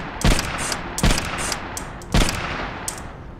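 A rail gun fires in the VR shooter Compound, played on a Valve Index: three sharp, loud, booming shots spaced roughly a second apart, each with a bright crackling tail over a steady background hiss, no talking.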